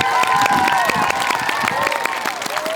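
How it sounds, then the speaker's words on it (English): An audience at an Arbor Day school event claps for a teacher and students, the clapping mixed with children's voices and cheering. "Let's give one more round of applause to Mrs."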